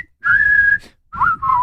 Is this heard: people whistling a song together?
yes